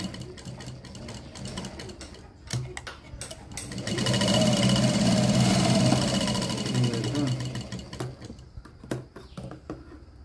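A sewing machine stitches a lining blouse, running in a steady sustained burst of close, loud mechanical whirring with softer starts and stops and light clicks on either side.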